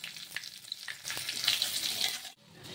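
Black mustard seeds, dried red chilies, curry leaves and asafoetida sizzle in hot oil over low heat for a chutney tempering. A steady, close frying hiss builds and then cuts off abruptly near the end.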